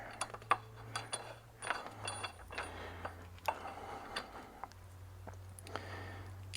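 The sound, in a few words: bolts being fitted into truck frame mounts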